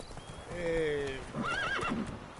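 Geralt's horse Roach in The Witcher 3 whinnies twice in quick succession, with soft hoof clops beneath, fairly close and moderately loud.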